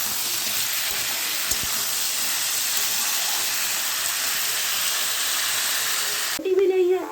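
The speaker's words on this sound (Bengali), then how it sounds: "আর এখানে সবজি হচ্ছে, সবজিটা এখন ভাজছি।" Vegetables frying in a pan on a home kitchen stove give a steady, fairly loud broadband hiss for most of the stretch, ending in a brief burst of other sound.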